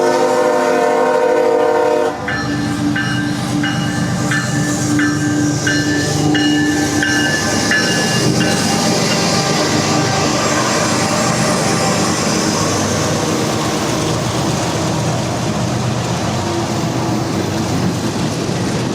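A train rolling through a downtown crossing in Madisonville, Kentucky, a loud horn blast over the rumble of the locomotive, then a sustained heavy roar and rattle of passing cars close by.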